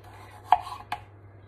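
Knife cutting potatoes, two crisp cuts about half a second apart against a board, close and quiet, no talking.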